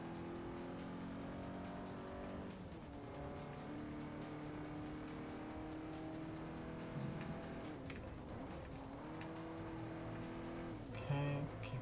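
Race cars in Forza Motorsport 4 roar steadily through a lap, engines droning with shifting pitch as they corner and accelerate, with brief tire squeal near the end; the engine noise stays loud and continuous throughout.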